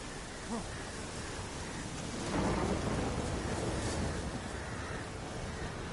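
A thunderstorm in a Witcher video game: heavy, steady rain hisses throughout, and a deep roll of thunder swells in the middle of the downpour before fading back. No voices.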